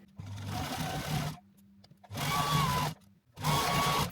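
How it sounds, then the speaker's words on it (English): A sewing machine stitches pinned stretch fabric in three loud, steady bursts, each around a second long, separated by short pauses. The motor whirs with a rising whine, and no one speaks. "So it's all pinned in place and now I can just sew it."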